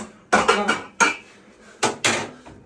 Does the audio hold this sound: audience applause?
no